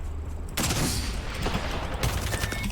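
Dense video-game gunfire crackles as a continuous loud fusillade of rapid shots, with a sharp rise in intensity partway through and no talk.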